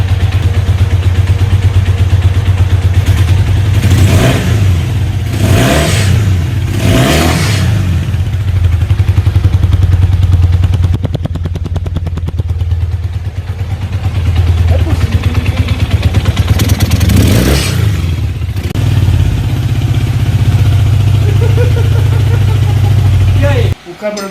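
A motorcycle engine idles low and steady after carburetor tuning, holding a continuous rumbling drone with a few brief rises, while someone talks over it for most of the time.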